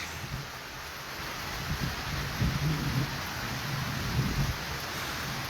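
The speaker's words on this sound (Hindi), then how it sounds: "आपको आवाज़ आ रही होगी कि बारिशें कितनी तेज़ हो रही हैं" Heavy rain pours steadily in Jammu and Kashmir while low thunder rumbles and rolls several times beneath the constant hiss of the downpour.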